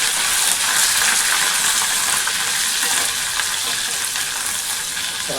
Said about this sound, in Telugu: ఇలా పోపు పెట్టుకోవాలండి అన్నీ వేసుకొని